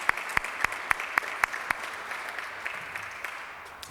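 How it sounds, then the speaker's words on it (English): Applause at a Rotary club meeting in thanks to a sponsor: a small group claps, with a few sharp, close hand claps standing out at first before the clapping thins and trails off. "Give her a round of applause"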